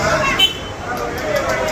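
Busy station crowd babble at close range, a dense, steady hubbub of overlapping voices with traffic-like background noise.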